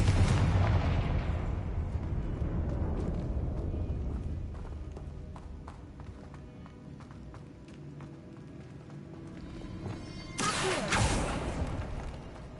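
A Confringo fire spell explosion in Hogwarts Legacy, a loud opening blast that fades into a long rumbling tail, with a second burst near the end over crackling game noise.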